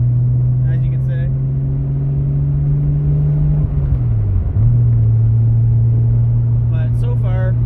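Car with a Toyota 2JZ engine cruising slowly along a road, a steady low engine drone that dips briefly as revs change, heard from inside with faint voices.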